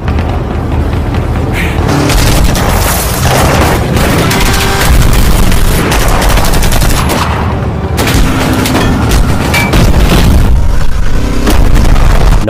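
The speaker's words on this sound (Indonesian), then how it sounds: "Kim bisa lebih leluasa melarikan diri dari baku tembak yang terjadi antara Ray dan polisi." A film shootout fills the scene with loud, dense gunfire and booming explosions, bursts of shots overlapping in rapid, sustained volleys with barely a pause.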